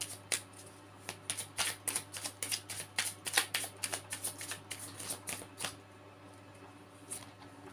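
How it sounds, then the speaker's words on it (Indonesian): Tarot cards are shuffled by hand in a quiet room, giving a soft, rapid flurry of papery flicks and riffles that grows busier in the middle and then thins out to a few scattered slaps. "shuffle dulu kartunya ya"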